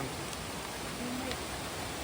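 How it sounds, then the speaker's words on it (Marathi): Steady rain falls continuously as a dense, even hiss with no break, a downpour in its second or third day, heard alone and fairly close. "पाऊस पडतोय जात नाही दोन तीन दिवस झाले"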